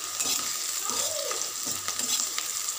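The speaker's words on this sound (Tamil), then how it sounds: "கருவேப்பிலை சேர்த்து நல்லா வதக்கிக்கிறேங்க." Garlic and curry leaves sautéing in a hot pan, a steady close sizzle with occasional stirring scrapes running throughout, no voices.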